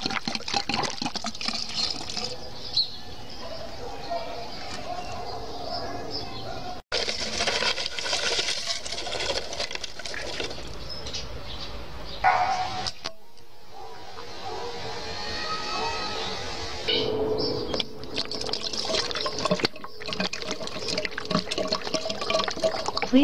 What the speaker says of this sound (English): Pour sugar water mixture into the feed pipe.